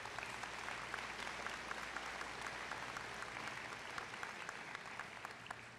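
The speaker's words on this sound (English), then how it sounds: "Let's give them another round of applause." Sustained crowd applause at the Breckenridge High School Class of 2023 graduation ceremony, a dense, steady wash of clapping from a large audience following speeches, continuous and fairly even throughout with a low hum beneath.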